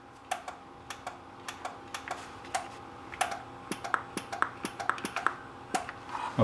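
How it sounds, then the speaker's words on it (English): Relays in a lightning-damaged NuTone IMA4406 intercom master station click sharply and irregularly, many small close ticks over a faint hum, some mixed with button presses. "So you can hear the relays click"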